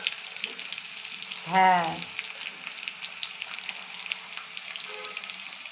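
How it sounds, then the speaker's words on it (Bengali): Chopped onions frying in oil in a pan make a steady, close sizzling hiss, and a brief voice cuts in near the middle. "এবার পেঁয়াজটা লাল লাল করে ভেজে নিতে হবে।"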